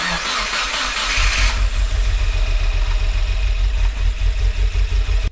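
A Subaru WRX engine with a new short block cranks briefly, then catches and settles into a steady, rough idle with a low pulsing rumble.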